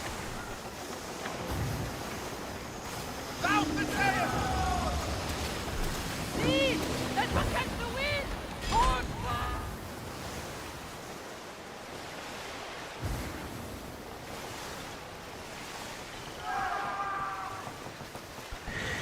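A ship under sail on open ocean in Skull and Bones, with continuous rushing surf and wind across the hull, waves swelling and easing, while a person talks over the water noise in stretches.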